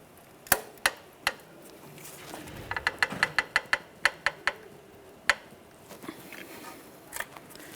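A pry bar works against the front brake caliper and rotor of a 2012-2015 Honda Civic, giving sharp metallic clicks and taps, first spaced out, then a quicker run of knocks, close up with light scraping between.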